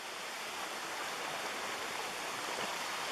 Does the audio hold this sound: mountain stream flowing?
yes